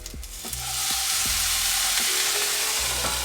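Cauliflower with a splash of water hisses and sizzles loudly in a skillet, a dense steady steam-and-fry roar with a few soft utensil taps, no talking.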